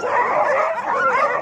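A dog gives loud, continuous whining yips and yelps close by, a sustained strained vocal run filling the whole moment with no talking.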